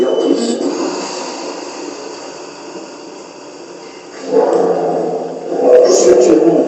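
Pack hunting hounds in a kennel in the middle of the night, barking and yelping together in a steady chorus that surges louder near the end.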